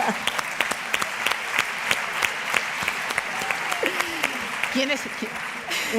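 An audience at a fashion talk with designer Agatha Ruiz de la Prada applauds continuously, with sharp individual claps standing out over the crowd and a few voices murmuring beneath.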